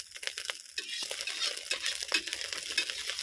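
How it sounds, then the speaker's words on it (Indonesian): Leftover fried rice is stir-fried in a pan at close range. A spatula scrapes and tosses in quick repeated strokes over a continuous soft sizzle. "masak nasi goreng sisa kemarin"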